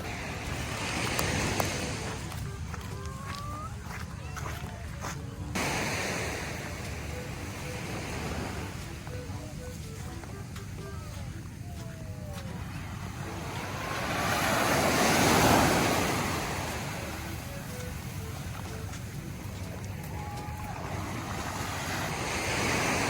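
Sea waves washing onto a beach on a summer day, a continuous rushing surf with wind buffeting the microphone, swelling louder midway, and faint distant voices in the background.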